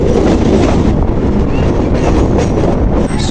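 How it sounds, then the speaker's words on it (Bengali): A local train on the Naihati line rumbles past near a station around Kolkata, a loud continuous roar with wind buffeting the microphone and no break in the noise. "এটা লোকাল ট্রেন আসছে নৈহাটি।"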